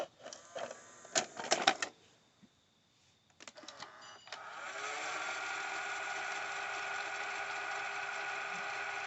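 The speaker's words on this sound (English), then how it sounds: "Let's test out rewind and fast forward on this." An 1980s RCA VLP950HF VCR starts rewinding its tape after a few clicks and clunks from the buttons and mechanism, then settles into a steady, fairly loud mechanical whir that runs unbroken for about five seconds.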